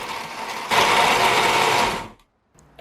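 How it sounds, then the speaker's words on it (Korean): Blender whirring through dried tomatoes with nuts, garlic, oregano, salt, pepper and olive oil for tomato pesto; a loud, close motor whine surges for about a second and a half, then cuts off abruptly. "블렌더 용기에 넣고 견과류 반컵, 마늘 한 알, 오레가노 반작은술, 소금 약간, 후추 갈아 넣어주고 올리브오일 3큰술 넣어 블렌딩 하세요"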